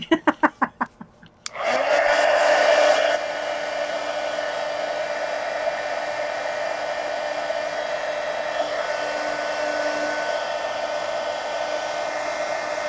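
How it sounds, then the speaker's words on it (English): A heat gun runs close and steady, blowing hot air over an art journal page, with a loud whooshing hiss that starts after a few quick clicks and then settles to a constant roar. "Let me hit this with the heat gun so I can close the book."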